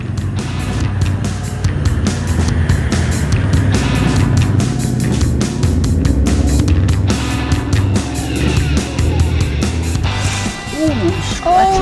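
New 4WD Troop Carrier crawling off-road, a loud steady engine drone with rough rattling and bumping over terrain, close throughout.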